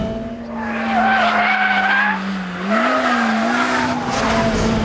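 A Honda Civic Type R engine revs hard toward its 8,200 RPM limit, a loud sustained tone rising and dipping with strong harmonics and tire-squeal-like whine, continuous throughout with no talk.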